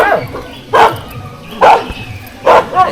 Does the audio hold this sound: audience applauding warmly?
no